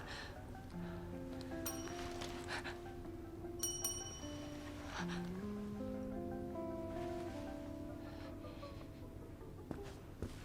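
A bell rings in a haunted hotel in a psychological horror video game, sharp metallic dings standing out over a dense, droning ambient music bed with shifting tones.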